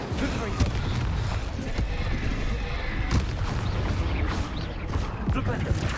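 Incendio and Confringo spell blasts from the video game Hogwarts Legacy, a run of booming, crackling impacts with sharp bursts near 0.6, 3.2 and 5.5 seconds over dense continuous battle rumble.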